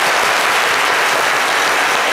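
Dense, steady applause from a studio audience welcoming a guest on a French-language talk show, loud and continuous throughout without a break.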